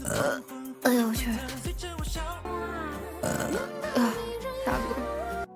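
Several close, throaty burps from a vtuber on stream, coming in bursts over a continuous tonal music bed and rising and falling in loudness.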